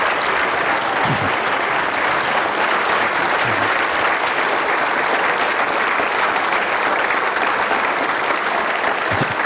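Sustained audience applause fills a hall at a Medal of Honor event on personal bravery, a dense, steady wash of many hands clapping at even loudness from start to finish.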